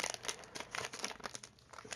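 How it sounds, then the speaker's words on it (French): Small One Piece OP14 trading card booster pack wrappers being torn open by hand, close crinkling and tearing of foil in quick uneven bursts, with no voices. "ça galère pour ouvrir les petits paquets"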